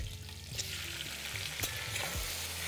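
Small onions and tomatoes frying in a pan for sambar, a soft steady sizzle with a few light stirring clicks, close and quiet, with no voices.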